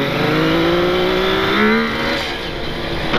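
A Kawasaki KH250 two-stroke motorcycle engine screams through full acceleration, its pitch climbing steadily, loud and close, then easing off near the end.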